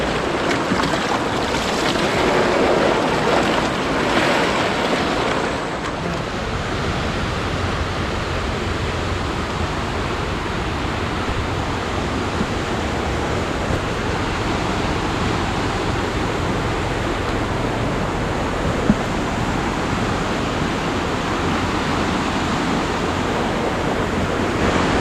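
Water rushing steadily along a riverbank opposite the Panayan plant in gold-panning country, a continuous broadband wash that stays close and even for the whole stretch with no voices.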